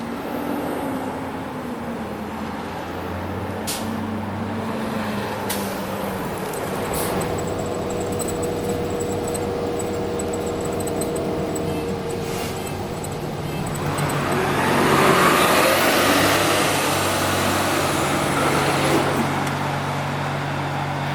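A bus carries riders into Sacramento, California. Its engine and road noise make a steady, close low rumble with a faint mechanical whine, and the rumble grows louder and rougher toward the end.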